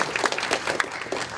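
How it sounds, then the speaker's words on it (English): Brief burst of audience applause at an annual meeting and dinner, a room of people clapping steadily after a fundraising goal is announced, moderately loud with no talk over it. "we got a round of applause for that"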